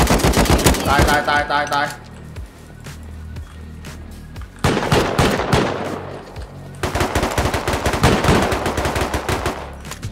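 Gunfire in the survival video game Rust, loud rapid automatic bursts and single shots crackling in clusters, with a voice briefly speaking over the action.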